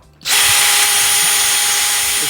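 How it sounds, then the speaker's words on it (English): A DeWALT bit spinning in a power drill in first gear, a steady loud continuous whine with a bright high hum that starts abruptly and holds for about two seconds with no talk. "Let me show you how fast it drills."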